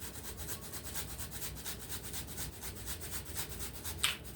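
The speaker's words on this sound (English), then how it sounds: "We're gonna add some ginger. And I just grate it into the bowl." Fresh ginger root rubbed against a hand grater straight into a bowl while cooking pepper steak, giving steady, rapid rasping strokes in a quick even rhythm, close and fairly quiet.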